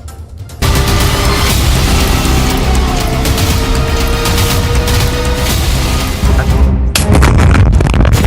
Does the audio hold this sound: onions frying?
no